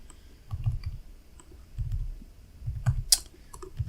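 Computer keyboard keys clicking in scattered bursts of light taps, close and fairly quiet, with brief pauses between clusters and one sharper click near the end.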